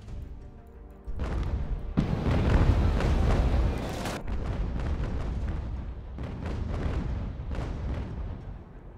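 Naval cannon fire in the video game Ultimate General: American Revolution, deep booming blasts that swell into a loud rumbling roar of overlapping shots, then ease into a continuing barrage of lighter repeated reports.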